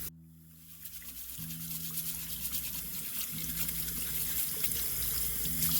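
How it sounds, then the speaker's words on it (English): Water running into a sink while an old scrub brush removes kiln wash from fused glass pieces, a steady tap flow with faint scrubbing and low hum underneath. "we're here in the sink, and I am just using an old scrub brush to remove the kiln wash"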